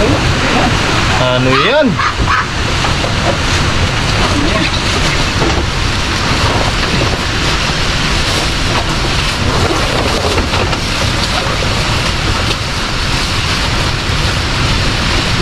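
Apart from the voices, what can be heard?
strong wind and rain during a typhoon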